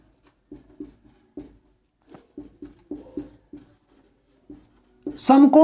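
Chalk taps and scrapes on a board in short, irregular strokes while a geometry problem is worked out, quiet and close, before a voice begins speaking at the end.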